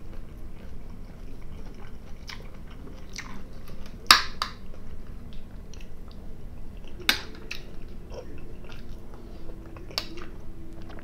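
Close, wet chewing and biting of homemade food flavored with coriander, with irregular soft crunches and a couple of sharper clicks of cutlery against dishes, no talking.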